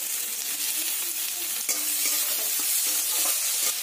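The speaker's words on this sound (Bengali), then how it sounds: "পেঁয়াজ আর বেল পেপার আমার মোটামুটি ভাজা হয়ে এসছে।" Onion and bell pepper fry in a pan with a steady, close sizzle, broken by occasional scraping and clinks as a utensil stirs them.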